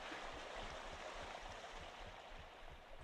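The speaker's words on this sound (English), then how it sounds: "and then you come under the waterfall, because every good game has a waterfall you can go under" A waterfall in the fishing video game Webfishing rushes steadily, a continuous soft broadband roar with faint gurgling, distant and quiet, with no talking.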